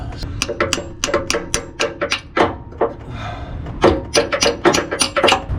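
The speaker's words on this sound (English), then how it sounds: "Let's hammer on the top half." Repeated sharp metallic hammer blows on a freeze plug in a tight space on a Dodge 5.9 L engine, in uneven bursts, close by, with a short pause midway before the strikes resume.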